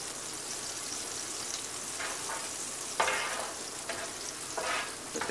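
A burrito shell frying in a pan, a dense, steady sizzle with crackling, plus a few louder bursts of spitting as the shell is pressed or moved.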